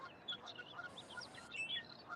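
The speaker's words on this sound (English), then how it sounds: "Oh, here's an orchard oriole." An adult male orchard oriole calls at a birding and nature center on South Padre Island, a faint run of quick chirps and whistled notes at a distance, with other birds and soft ambient noise around.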